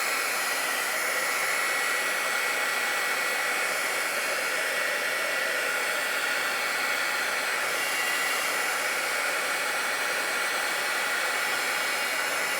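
A hair dryer blows steadily and loudly, close up, drying wet watercolor paint on a flower painting, an unbroken rushing whoosh with no talk.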